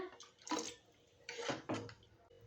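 Water is poured into a pot of masoor dal with spinach, making two gurgling splashing pours, one short and one longer, fairly near with no talk.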